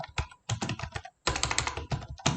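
Typing on a computer keyboard in Microsoft Word, a close, busy run of key clicks in quick bursts with two short pauses, no speech.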